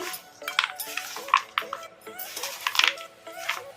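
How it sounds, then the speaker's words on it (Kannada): A spoon stirring okra pakora batter in a bowl, a close, busy run of scraping and clinking strokes in an irregular rhythm, with no voices. "ಈ ಥರ ಸ್ಪೂನ್ ಸಹಾಯದಿಂದನೇ ಕಲಿಸ್ಕೋಬೇಕು"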